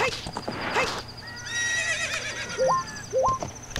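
A horse whinnies loudly in The Legend of Zelda: Ocarina of Time amid galloping hoof clops and short rising game chimes, the neigh ringing out mid-clip over a soft background hum.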